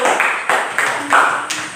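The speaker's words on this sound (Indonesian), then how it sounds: "tepuk tangan untuk Diva dulu" Classroom applause for a student after she answers, a burst of hand clapping from a group of pupils in an Indonesian school lesson, brief and fairly loud, with faint voices underneath.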